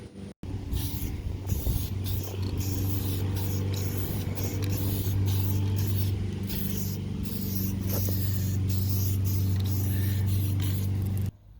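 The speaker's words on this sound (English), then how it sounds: "I'm gonna spray it with some flat black enamel to get it back to a nice black color." An aerosol can of flat black enamel sprays roof rack rails from a Chevrolet Caprice Classic wagon, a steady close hissing stream that lasts about eleven seconds, starting and stopping abruptly, with a low hum beneath it.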